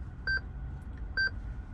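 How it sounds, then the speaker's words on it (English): Electronic beeps from the Ghost 2 immobiliser in a 2016 Lexus, heard as two short, clean two-tone chirps about a second apart over a low steady hum, with no voices. "you get 5 beeps, and those beeps let you know now the Ghost is off."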